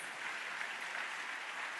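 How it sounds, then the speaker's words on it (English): Audience applause fills a large hall at the VivaTech tech event in Paris, a steady, dense wash of clapping that holds at an even level for about two seconds with no voices standing out. "This is your applause."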